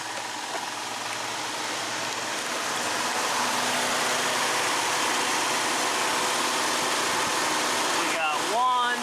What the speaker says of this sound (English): And there you go, we got cooling fans.